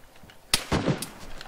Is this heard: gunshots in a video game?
yes